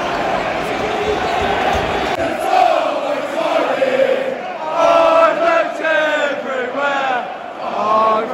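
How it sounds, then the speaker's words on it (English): A football stadium crowd roars steadily through a Bristol City versus West Ham match, loud dense chanting and cheering swelling and ebbing without pause for the full stretch, with a near voice talking over it. "Quieten this crowd down, get into them early, West Ham."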